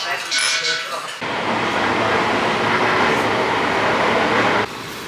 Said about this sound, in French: Nous avons pris le métro pendant quelques minutes